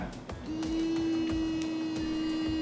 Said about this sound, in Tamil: இந்த பிரஷ்ல நான் பிரஷ் பண்ண ஸ்டார்ட் பண்ணுறேன்